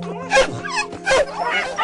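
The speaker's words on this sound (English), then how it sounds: "Again, they're all types of staffy." Staffordshire bull terrier type dogs bark, yip and whimper in short, close bursts, several overlapping calls in quick succession over a faint steady hum.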